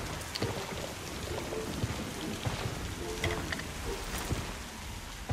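Steady rain pours throughout in a PUBG-style battle royale shooter, a dense even patter with scattered louder drops and no voices.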